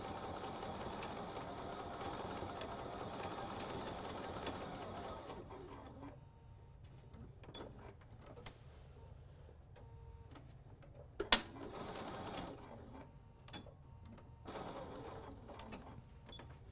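Sewing machine running a twin-needle double stitch on a fabric placemat: a steady mechanical whir for several seconds, then quieter, intermittent ticking and clicks as the machine slows and stops.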